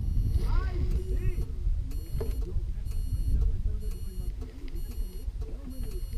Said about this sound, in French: ça bip encore